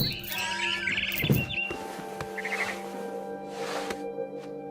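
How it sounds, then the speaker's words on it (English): Barn swallow chirping in the video game What Remains of Edith Finch: quick bright tweets in short bursts near the start and again midway, over a soft ambient background with light thuds. "It was a barn swallow going back to her nest."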